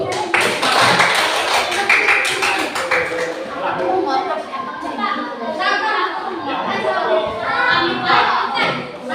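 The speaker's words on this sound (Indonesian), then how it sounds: "Tepukan dulu." Pupils in a classroom clap for the third discussion group, a burst of scattered hand claps at the start that gives way to children's chatter and voices.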